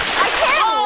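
Water splashes and sloshes during a playful water fight between people in a lake, a short burst of close splashing with excited voices over it.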